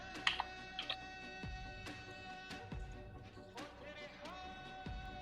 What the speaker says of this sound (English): in here we can start typing it out